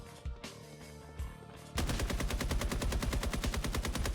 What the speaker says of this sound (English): how much time it takes to empty a mag on this gun without any added effects